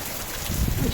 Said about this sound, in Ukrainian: Боже, дощику. Це для мене пішов дощ.